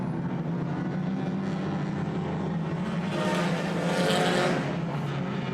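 Race cars battle wheel to wheel at Claremont Motorsports Park, a steady layered engine drone from a distance that swells briefly as the pack draws nearer, then settles back.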